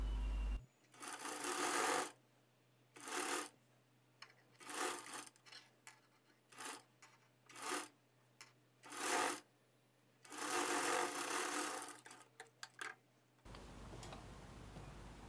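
A sewing machine runs in repeated short bursts while stitching a size 36 boat neck lining blouse, each run a fast whirring rattle separated by brief pauses, close and clear with no voices.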